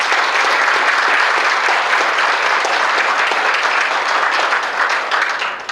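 An audience at a 2021 athletic hall of fame banquet applauds the event committee members, with steady, dense clapping sustained throughout and fading slightly at the end.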